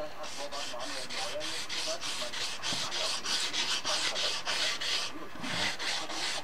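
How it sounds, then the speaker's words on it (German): Steady, rhythmic abrasive rasping of sanding on a Yamaha SZR 660 motorcycle wheel rim, strokes repeating about twice a second, close and continuous with no talking. "Jetzt schleifen wir die Felge ab."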